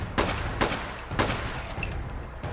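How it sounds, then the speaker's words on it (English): Gunfire from a Fallout 76 fight against ghouls: three sharp, loud, evenly spaced bursts over a low rumbling background, with faint tonal effects between shots and no voices. "We're going to be sitting here shooting ghouls all day."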